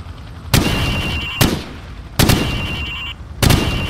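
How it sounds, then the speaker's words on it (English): Hip-fire bursts from a rifle in the Call of Duty 4: Modern Warfare training course, four loud, sharp shots with ringing tails spaced about a second apart, up close with no talk. "I want to see you fire from the hip."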